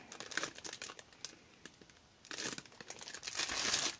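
A damaged candy bag of assorted Christmas sweets crinkles and rustles as it is handled, with bursts of close crackling separated by quieter pauses and a louder, sustained crinkle toward the end.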